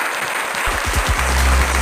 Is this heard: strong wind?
no